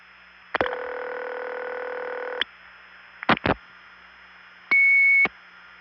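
Telephone line tones from an NX1 crossbar exchange in Belvedere, New Jersey, 1976: a steady dial-tone hum cut off by clicks, a pair of short tone bursts, then a bright higher beep lasting about half a second, heard clearly with no talking.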